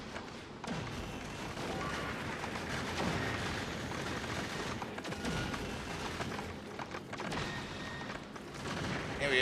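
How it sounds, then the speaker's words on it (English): Laser turrets fire continuously in the Factorio Space Age game, a dense, sustained barrage of crackling shots and impacts layered together, loud and unbroken throughout with brief dips in intensity. "It's the laser turrets not being able to keep up."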